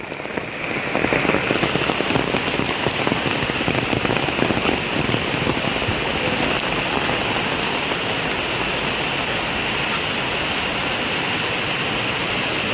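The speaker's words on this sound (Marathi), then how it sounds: "बाप रे भन्नाट पाऊस आहे भन्नाट" Heavy monsoon rain pours down over a housing society area, a dense, loud, continuous roar of drops hitting surfaces with no break.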